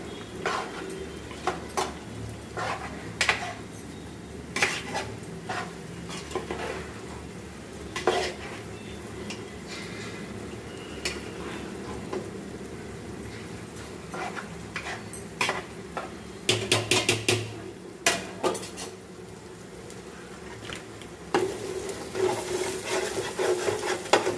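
Spoon stirring food in a metal cooking pot for biryani, with repeated scraping and clinking strokes close by, in irregular bursts over a steady low background, no talk.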